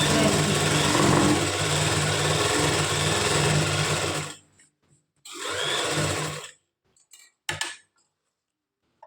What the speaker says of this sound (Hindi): तो ये हम सिलाई लगा लेते हैं